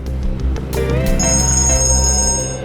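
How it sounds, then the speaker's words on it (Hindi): A phone rings with a bright, warbling electronic tone that repeats steadily for a few seconds, fairly loud and close, layered over a low musical hum. "एक मिनट, फोन आ रहा है।"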